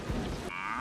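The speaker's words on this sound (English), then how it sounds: "Cow." A cow moos in the movie Twister, a short low groaning bellow under a noisy rush of wind that cuts into a thinner, rising whine.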